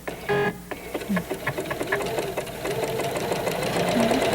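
A sewing machine stitches rows along a quilting gauge, its rapid mechanical whirring and clatter running steadily after a brief initial burst, close up and without speech.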